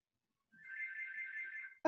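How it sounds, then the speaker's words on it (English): A mobile phone rings faintly indoors, one sustained electronic warbling tone lasting just over a second, cut off by a sudden nearby sound at the end. "That's my phone ringing."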